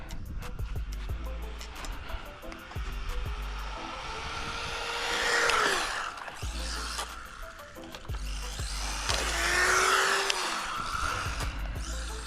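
A Losi NASCAR RC car with an upgraded brushed motor runs at full throttle outdoors, its high electric whine swelling and fading as it passes by twice over a constant background rumble.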